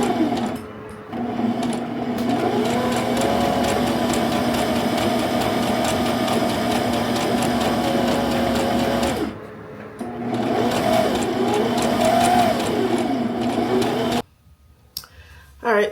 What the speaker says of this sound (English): I'm still sewing the fishing line in the hem of the skirts